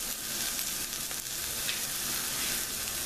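Onions fry in a pan as part of a chimichanga filling, giving a steady, close sizzle with faint stirring and no talk.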